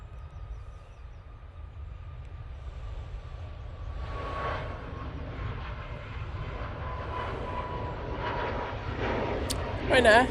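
A Ryanair Boeing 737 MAX 8 departs Manchester Airport at dusk, jet engine roar building steadily from a faint distant rumble to a louder, fuller sound, with a brief sharp noise at the end.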